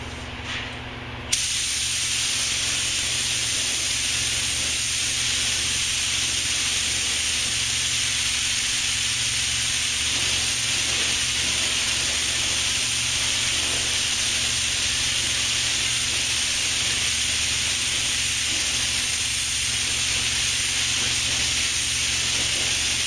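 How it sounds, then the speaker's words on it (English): Steady continuous hiss of a spray gun applying enamel and urethane paint to Western snowplow wings, loud and unbroken for over twenty seconds after a brief start. "First coat is going to be a lighter coat, we'll let that tack up, and then the second coat will be a full wet coat."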